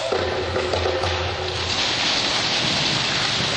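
Steady heavy rain hisses throughout, with a low rumble of rolling thunder underneath during the first half, full and continuous with no voices.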